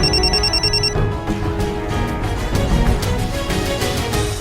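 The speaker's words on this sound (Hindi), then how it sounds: "सर जी उन्हीं का फोन है, क्या करूं?" A telephone rings briefly, with a high electronic ring at the start, then gives way to dense loud background music from a Hindi TV drama episode.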